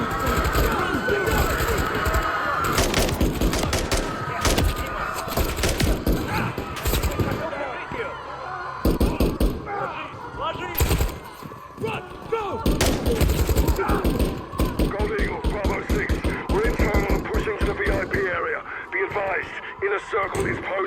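Sustained gunfire during a terrorist attack in a video game: rapid bursts of automatic rifle fire and single loud shots, near and dense, over a tense backdrop with radio chatter and shouting voices.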